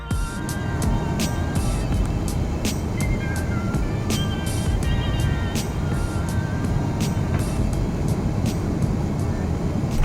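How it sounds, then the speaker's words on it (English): Delta airliner landing on runway 34 left at Salt Lake City in wintry conditions, a steady loud broadband cabin roar of engine and airflow with repeated faint clicks and rattles throughout. "Landing today on, I believe, 3-4 left."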